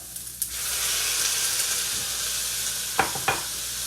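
Onion and water chestnuts sizzle steadily in hot coconut oil, a close, continuous frying hiss broken by a few scraping stirs of a utensil.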